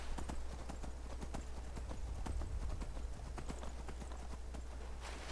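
Galloping horse hooves from the video game Skyrim, a fast steady clip-clop rhythm that runs throughout at an even, moderate level over a constant low rumble of game ambience.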